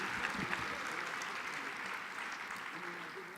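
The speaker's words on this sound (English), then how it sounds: "give my boss another round of applause" Applause from the crowd at a coalition academy graduation ceremony, a steady, moderately faint wash of clapping lasting a few seconds with some background voices mixed in.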